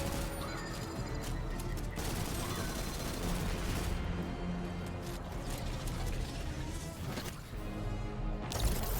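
Gunfire while shooting enemies in Destiny 2, a dense, continuous clatter of shots mixed with impacts and crashing effects throughout a busy battle soundscape, at moderate volume.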